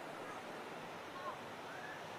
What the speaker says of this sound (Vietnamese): sóng đánh nhân tạo.